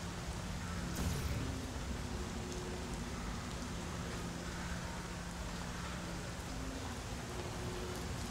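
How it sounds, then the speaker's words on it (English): Steady rain falling in the video game Portal: Revolution, a constant dense hiss at moderate level with a brief louder patch near the start and no talk. "There's gotta be a way to turn that rain off"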